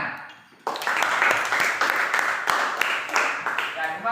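A group of students in a classroom bursts into clapping after a quiet moment, a busy mid-level patter that carries on steadily with a few voices mixed in.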